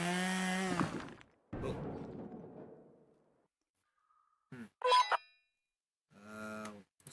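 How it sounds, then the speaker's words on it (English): A drill from The Henry Stickmin Collection game whirs loudly in a harsh mechanical burst, winds down, and is followed by sparse short game sound effects and chimes with silent stretches between. "let's just use this damn drill."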